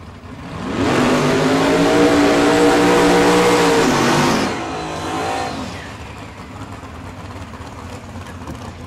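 A 1974 Chevrolet Nova drag car launches down the strip at Tulsa Raceway Park, a loud rising roar for several seconds that fades away into the distance, leaving faint ambient noise.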